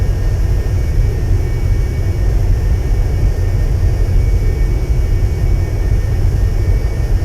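Cessna Citation II 550 business jet engines in X-Plane 11 on approach, a loud, steady low roar and whine that holds constant throughout with no talking.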